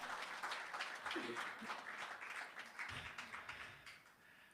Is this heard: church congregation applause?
yes